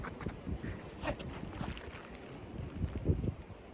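Gusty wind buffeting the microphone, rumbling low and rising in bursts, with no talking.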